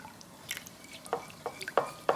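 Soy sauce is poured into a pan in small splashes and drips, with scattered soft sizzling pops against a quiet background.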